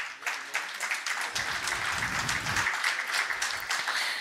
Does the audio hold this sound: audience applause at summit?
yes